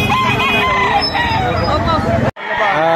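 A rooster crows loudly and close at a livestock auction market in Lipa, Batangas, its strained call carrying over a steady murmur of voices, briefly broken by a sharp cut.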